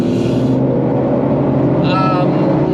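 A steady engine drone hums from inside a moving Toyota GR Yaris, loud and constant, with road rumble underneath the whole time.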